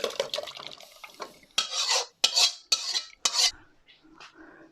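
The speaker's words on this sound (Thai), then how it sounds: "นี่นำเครื่องทั้งหมดที่เราทำลงไปในหม้อเลยนะคะ" Cloth-wrapped spices and ingredients for Thai braised palo eggs are dropped and scraped into a cooking pot, giving a series of close metallic clinks and rubbing scrapes in separate bursts.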